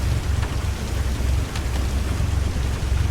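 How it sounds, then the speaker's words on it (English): Steady rain hisses as a dense, even wash, with low rumbling thunder underneath, forming a light thunderstorm in Microsoft Flight Simulator 2024. "Then you got your light thunderstorm"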